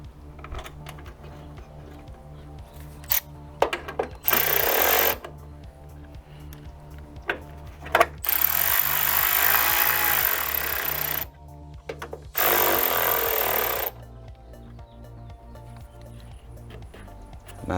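A power driver runs top screws into headlight bezels while fitting a grille on a Ford Econoline, giving several whirring bursts of a few seconds each, separated by clicks and handling noises, close and loud.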